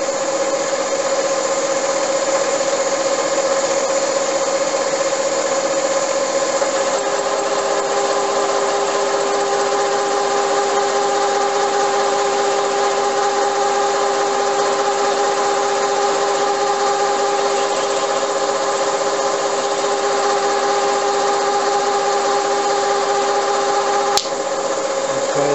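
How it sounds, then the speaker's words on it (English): A boring head cuts under power feed in a milling machine, driven in reverse for clockwise rotation, producing a loud, steady mechanical drone with a constant tonal hum that carries on unbroken, ending with a sharp click near the end. "Put the drive on and you should start driving down,"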